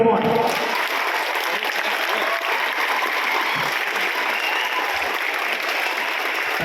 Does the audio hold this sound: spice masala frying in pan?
no